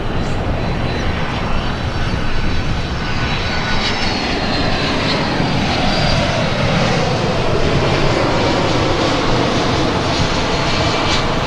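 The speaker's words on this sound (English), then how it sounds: "Also have the Qantas 787-9 Dreamliner coming in from Sydney" A Qantas 787-9 Dreamliner jet arriving from Sydney at Los Angeles International Airport, a loud continuous broadband engine roar with a slowly shifting whine, close and unbroken for the whole stretch.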